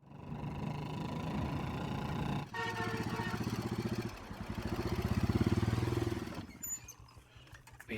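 A motorcycle engine idles and revs nearby, its throbbing mid-range note rising and falling before a rattle and clatter at the end, with no talk over it.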